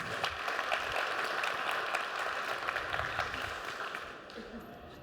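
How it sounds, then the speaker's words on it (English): Audience applause at a tech conference session, a sustained patter of clapping that fades toward the end, with faint voices mixed underneath. "Give him a round of applause"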